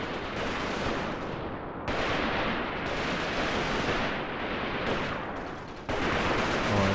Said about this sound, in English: they're definitely shooting this way